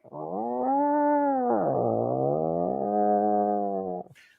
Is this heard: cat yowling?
yes